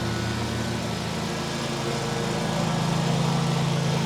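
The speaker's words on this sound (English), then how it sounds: "the lawnmower is literally mowing right by me" A lawn mower runs close by, a steady droning engine hum that holds at an even level throughout with no break and no voices.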